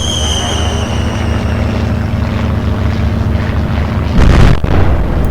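Bombs from a dive bomber burst over ships at sea in Atlantic Fleet during a naval battle. A steady engine drone runs underneath, then one loud, close explosion erupts near the end.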